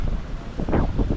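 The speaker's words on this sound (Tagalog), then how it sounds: "Medyo lumakas po ang habagat at lumakas din po ang alon." Strong monsoon wind buffets the microphone beside Taal Lake, a steady rough roar with waves surging underneath, no speech.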